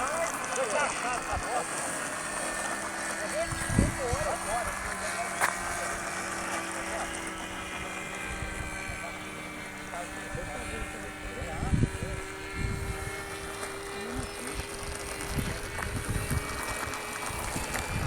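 Small model airplane engine buzzing at a model aviation field as the plane climbs steeply, a steady sustained drone with wind noise and people talking over it.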